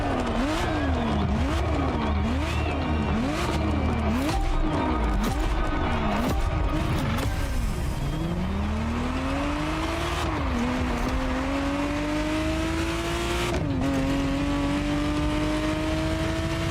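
A Ferrari Testarossa in The Crew: Motorfest revs hard through repeated gear changes, its engine note sawing up and down before settling into long rising pulls, with tire noise and loud, continuous racing sound throughout.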